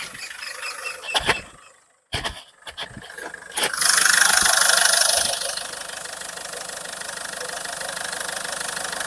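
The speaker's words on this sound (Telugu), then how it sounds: "ఇంజిన్ నేను స్టార్ట్ చేసి చూపిస్తున్నాను" A 2006 Ford Fiesta with about 161,000 km is cranked and fires up after a few clicks and brief silence. It revs up loudly for a moment, then settles into a steady close idle.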